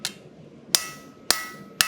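A blacksmith's hammer strikes hot metal during forging: four sharp ringing blows spaced about half a second apart, each leaving a bright metallic ring that fades before the next.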